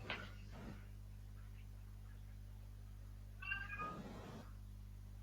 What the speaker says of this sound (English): we just heard a cat